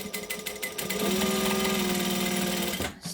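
A domestic sewing machine running a decorative stitch 4 at stitch length 4 on stiff folded fabric, a steady close whirring chatter that starts with a few short pulses, holds a continuous run for about two seconds, then stops.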